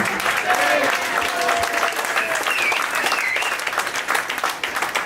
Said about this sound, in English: How about a hand for Stephanie on the piano?